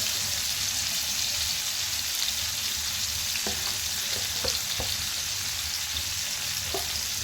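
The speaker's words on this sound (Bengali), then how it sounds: "যে মাছটা ভাজতে দিলে চুলার উপর দিলে কিন্তু এরকম বাঁকা বাঁকা হয়ে যায়" Rohu fish pieces fry in hot oil in a pan on the stove with a loud, steady sizzle that never lets up, broken by a few faint clinks and taps.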